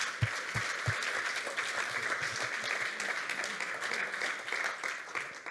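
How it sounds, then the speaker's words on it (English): At a Berlin fintech leaders event, the audience applauds the investors with dense, sustained clapping that fills the room evenly for several seconds. A few sharp, close claps stand out near the start. "a big round of applause for our investors"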